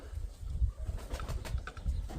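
Pigeons cooing in a home pigeon loft, soft low repeated coos close by with faint rustling, no talk over them.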